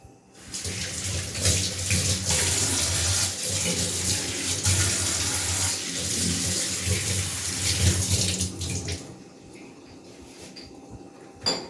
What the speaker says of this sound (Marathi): आता मी घेतलेली आहे इथे पितांबरीची पावडर आणि सगळं एकत्रच हे आता स्वच्छ करून घेते मी